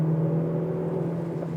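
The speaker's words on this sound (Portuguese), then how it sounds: "você vê que o motor a combustão entra com mais expressividade aqui" A Hyundai Ioniq full hybrid accelerates with its combustion engine working hard, a steady droning hum from inside the cabin that holds a constant tone, with no talk over it.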